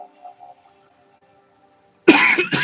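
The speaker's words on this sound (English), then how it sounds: "I'm gonna cough." A single sharp cough bursts out after a quiet stretch, followed by a second shorter cough, close and loud.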